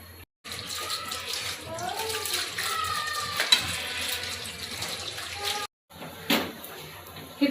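Salted bitter gourd is rinsed under a running kitchen tap, a steady splashing stream broken by short pauses and handling noises, with a voice briefly audible over the water.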